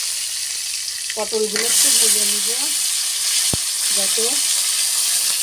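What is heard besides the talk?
pointed gourd (potol) frying in oil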